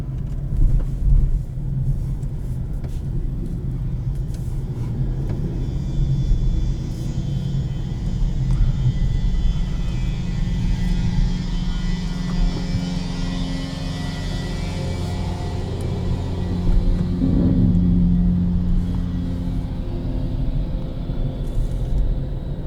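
Steady low engine rumble and road drone from a 2021 Kia Forte FE with a manual gearbox, driving in second gear, with a continuous loud hum and a brief rise in pitch partway through.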